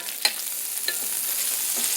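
Butter melting in a cleaned cast iron pan, a soft continuous sizzle with a few faint clicks and taps of a utensil.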